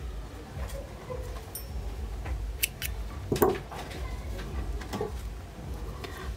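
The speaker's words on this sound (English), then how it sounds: "chain 1 and cut your yarn." Scissors cutting crochet yarn, a quiet snip or two standing out against a faint background with no talk.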